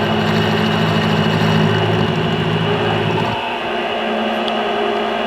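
A milling machine turns at 720 RPM as the cutter plunges slowly into metal, giving a loud, steady mechanical hum with a low drone that shifts and drops in pitch partway through.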